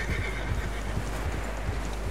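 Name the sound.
horses neighing and struggling in snow, from video game Red Dead Redemption 2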